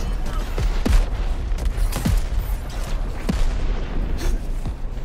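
Heavy gunfire and explosive booms hammer toward the player in an urban combat video game, with repeated sharp reports spaced across a dense, rumbling battle din and a voice talking faintly under it.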